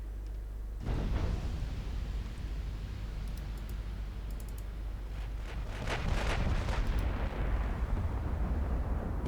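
Battleship guns fire in a 1947 Norwegian naval strategy game, a sustained rumbling roar of heavy blasts with a denser burst of impacts in the second half, no talking.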